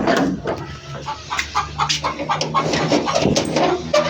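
Several chickens cluck and squawk repeatedly in short bursts over a steady background hum, some close and some farther off.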